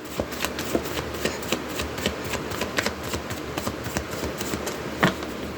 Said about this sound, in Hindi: सब कुछ शफल वगैरह मैं सामने ही करती हूँ